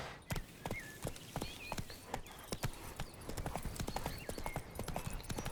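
Roach, the horse in The Witcher 3, clip-clops steadily at a walk, hooves landing in a clear close rhythm through the whole stretch, with a faint whinny-like tone and soft game ambience underneath.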